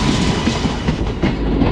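The Sabarmati Express rattles along the tracks on a hot summer run, a loud, steady rolling roar with repeated clickety-clack beats of the wheels over rail joints, heard from inside the carriage.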